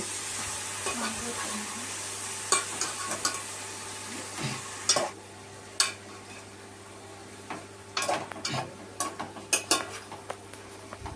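Onions stirred into a chicken curry as it fries, a steady sizzle under scattered scrapes and clinks of a spoon against the pan, close and fairly quiet.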